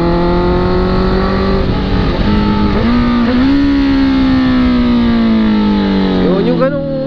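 A Honda CB650R motorcycle engine revs loudly up close, its pitch sliding down and back up as the RPM drops through downshifts, while someone talks over it.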